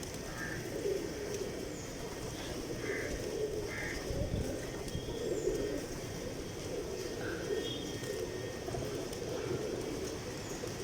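Pigeons cooing at a temple in Kochi, soft repeated coos over a steady hum of background noise, faint and distant with no one talking.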